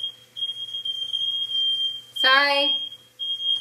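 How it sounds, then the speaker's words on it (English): A smoke alarm set off by a pan smoking under a kitchen broiler gives a loud, steady high-pitched tone, then a short harsh buzzing burst, with someone briefly speaking nearby. "It's smoking so bad, we set off the alarms."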